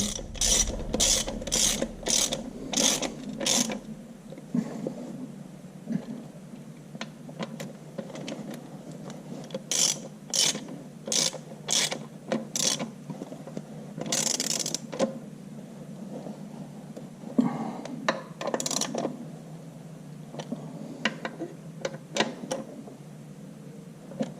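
A socket wrench ratchets while PTO parts are fitted on an IHC Farmall Super M tractor: close bursts of rapid clicking separated by short pauses and occasional metallic creaks, with no talking.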